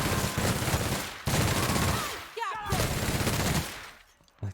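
A plasma carbine in The Outer Worlds fires loud, rapid sustained bursts in a dense automatic rattle, with a short break partway through before the firing resumes and then tapers off.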